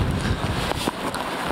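Strong wind buffeting a microphone, loud blustery rumble with brief gust surges, continuous.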